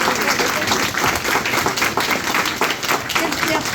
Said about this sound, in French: je voudrais que vous fassiez un tonnerre d'applaudissements pour les